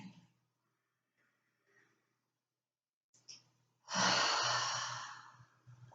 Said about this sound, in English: Take a deep breath in towards the chest space. And a releasing exhale.